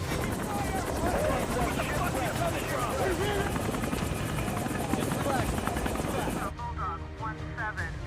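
A film helicopter, the Bulldog, flies and comes under gunfire before it crashes; a loud, steady rotor and engine drone fills the whole stretch, with faint voices or effects mixed beneath and a sudden quieter cut near the end.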